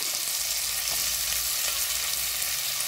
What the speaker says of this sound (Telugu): ఘీ కరిగిపోయాక ఆనియన్ వేసుకోవాలి. అలానే ఒక 2 పచ్చిమిర్చి కూడా వేసుకోవాలి.